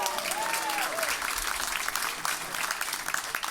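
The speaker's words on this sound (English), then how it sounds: "Can we give Ray a round of applause" Comedy club audience applauding a man named Ray during a live stand-up show in London, steady broadband clapping throughout with a few cheers and voices mixed in.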